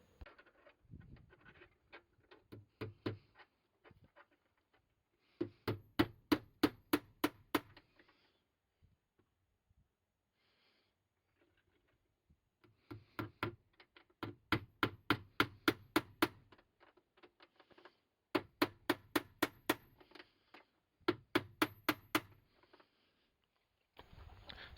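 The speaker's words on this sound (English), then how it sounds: "we'll basically turn the remaining screws down to nails and hammer those into the wood" Sharp, rapid hammer blows in several bursts, each a quick run of evenly spaced knocks driving nails into wood while building a prop sword and shield, separated by pauses and lighter handling noises; no voices.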